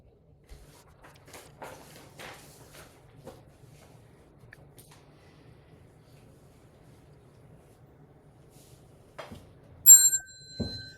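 A small hand bell used to lead a Buddhist vow chant gives one bright, ringing strike near the end, after a long, quiet stretch of faint shuffling and handling noises.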